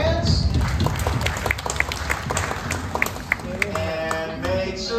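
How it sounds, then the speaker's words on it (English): Audience at a Despicable Me Minion Mayhem ride queue at Universal Studios Hollywood clapping and stomping, a loose burst of claps amid crowd noise and chatter, with voices talking over it. "Clap your hands."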